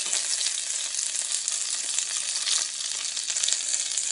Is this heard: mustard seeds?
yes